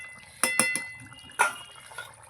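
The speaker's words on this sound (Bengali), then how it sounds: "কি সুন্দর ফুটছে সব সময় আমি বলি কি সুন্দর ফুটছে" A vegetable curry with winter spring onion stalks simmers in a pan, giving a few distinct bubbling pops and small clinks over a quiet, faintly gurgling background.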